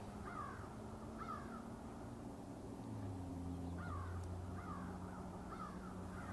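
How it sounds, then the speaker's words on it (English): Crows caw repeatedly from several directions at dawn or dusk, clear over a steady low rumble of distant highway traffic, with the calls coming in loose clusters of two or three. "The most interesting thing, of course, is the birds at this time of the day."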